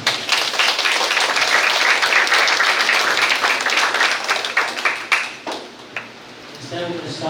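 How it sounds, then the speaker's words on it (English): An audience at a spelling bee applauds, a dense steady burst of many hands clapping that carries on for several seconds before thinning out and fading as talk resumes. "Let's give them a round of applause."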